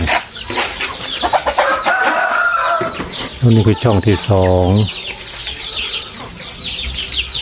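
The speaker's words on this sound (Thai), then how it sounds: "ไก่มาอยู่เต็มจอพอดีเลย" Chickens cluck and call repeatedly close by, with a rooster-like burst midway, while a person talks over the birds throughout.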